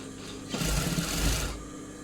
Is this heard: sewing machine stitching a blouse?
yes